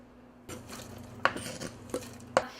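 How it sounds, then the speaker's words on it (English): Cut-up nopales go into a pot of beans with a few sharp clinks of a utensil against the pot and soft stirring between, close and quiet, no talking. "Now I'm going to go ahead and add everything that we've cut up into our beans."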